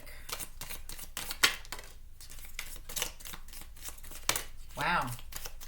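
Quiet crisp riffles and snaps of a tarot deck being shuffled by hand in a reading, coming in short bursts with brief pauses between them, close and soft.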